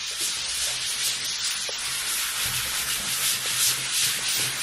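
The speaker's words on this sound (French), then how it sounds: "Opération nettoyage du bureau à l'éponge." A sponge scrubbing across a desk surface gives a steady, close, bright hissing rub with small thumps, continuing without pause and with no voices.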